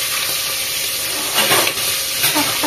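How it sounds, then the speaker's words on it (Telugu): Green chillies fry in hot oil for a pot of crab curry, giving a steady, loud sizzling hiss with a few brief flares of spattering and no voices. "నేను ఇందులో ఆయిల్ పోసి పచ్చిమిరపకాయలు వేయిస్తున్నానండి."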